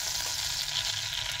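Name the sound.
butter sizzling and melting in a pan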